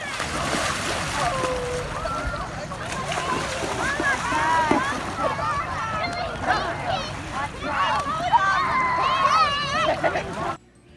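Swimmers splashing in lake water at a busy state park swimming beach on a hot summer day, a steady wash of splashes with children's and other voices chattering throughout.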